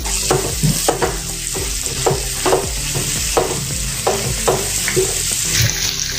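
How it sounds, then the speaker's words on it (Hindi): Onions go into hot oil with cumin and asafoetida for a moong dal snack and sizzle loudly without a break, while a spoon scrapes the pan in a repeated stirring rhythm, close up with no talk. "अभी प्याज डालेंगे, अच्छे से मिला देंगे।"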